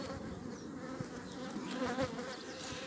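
Honeybees buzzing at a hive during the first opening of the season, a steady close swarm hum with faint fluctuations, alone without talk.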